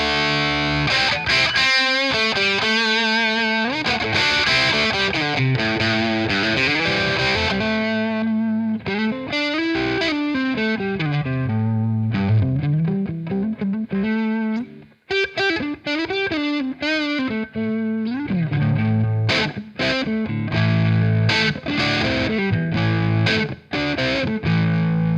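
Electric guitar played through a Klon overdrive pedal on the green gain channel, part of a live rig: warm, mildly driven chords and single-note lines with sustained ringing notes, steady and loud throughout with no talking.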